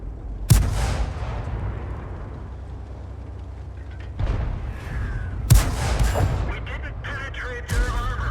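Tank cannon fire in a tank video game: several heavy, loud booms spaced seconds apart, each followed by a rumbling decay, over a constant low engine-like drone.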